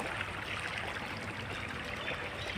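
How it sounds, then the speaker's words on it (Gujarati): Borewell water flows into a farm field in a steady, continuous rush of splashing, moderately close and unbroken, with no voices. "પાણી ચાલુ છે ખેતરમાં"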